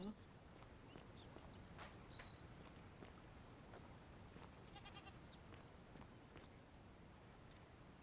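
A goat bleats a few times in the video game The Forgotten City, faint and brief against a steady bed of ambient game noise and rain-like hiss.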